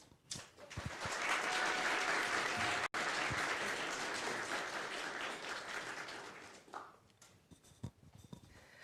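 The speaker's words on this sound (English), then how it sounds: "I'm sure that he deserves the big applause" Big, sustained applause from an audience at a game jam presentation, for a team member; dense clapping holds for several seconds before thinning into a few scattered claps and small noises.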